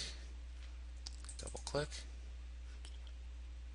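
A computer mouse is double-clicked during a software session, giving a few faint, quick clicks close together against a quiet room hum.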